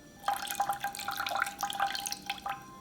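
Water is poured over medium heat into a pan to make a sauce for Cantonese shrimp toast, alongside rice vinegar. The pour comes through as a steady close splashing and dripping trickle lasting a few seconds.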